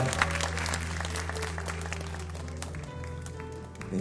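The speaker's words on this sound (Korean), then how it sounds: "네, 다시 한번 큰 박수 부탁드리겠습니다." Congregation applauding during a youth worship service at Yewon Church, a steady spread of clapping over a low sustained hum, with faint talk in the background.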